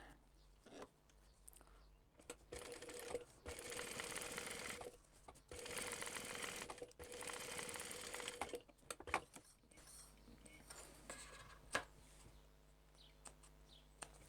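A sewing machine top stitches a bag pocket in two sustained whirring runs with short pauses, followed by lighter handling and fabric rustles.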